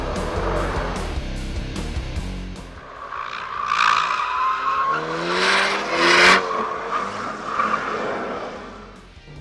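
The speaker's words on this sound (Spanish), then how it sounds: "El motor realmente ya empieza a dar lo mejor de sí." 2022 Alpine A110S driven hard on a racetrack, rising and falling engine revs with sharp tire squeals swelling through corners, loud and close, no talk.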